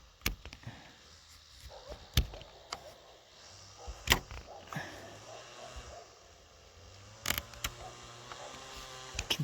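Old sealant being peeled up off an RV roof and pulled away from around the screws, with sharp crackling snaps and tearing bursts at irregular intervals over a low background rumble.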